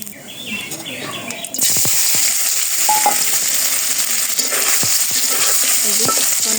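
Cumin seeds drop into hot oil in a karai, and a sudden loud, close sizzle bursts up and keeps crackling steadily. A voice and bird chirps come just before it.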